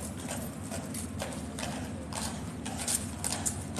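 A large King's Guard horse at Horse Guards shifts restlessly, its hooves clopping in irregular steps on hard ground against a constant crowd murmur, moderately close but not loud.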